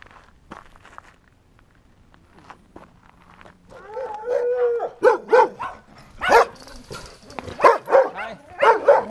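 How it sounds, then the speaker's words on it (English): A dog barks in a short series of loud, close barks with a howl-like tone, after quieter footsteps and movement, with some speech-like sounds mixed in. "That's a nice bark you got there."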